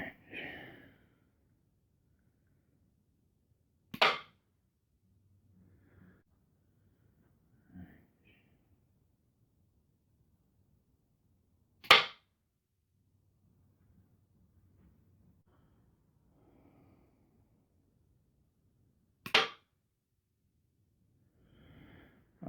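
A handmade model string-powered weapon fires in three sharp, isolated snaps spread several seconds apart in a quiet room, with faint breathing and small handling noises between them.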